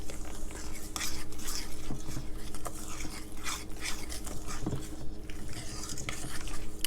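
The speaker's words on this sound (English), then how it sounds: "I just want to mix it good." Cornbread batter made with 2% milk being stirred steadily in a bowl, a continuous soft wet scraping and swishing with faint utensil clicks against the side, close and fairly quiet, with no talking.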